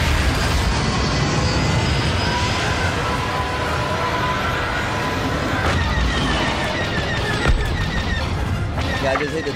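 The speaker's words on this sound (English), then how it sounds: "That explosion almost blinded me." Explosions and blasts in a Star Wars Battlefront 2 space battle on Xbox One X, a dense, loud roar of booms and weapon fire running throughout with talk mixed in.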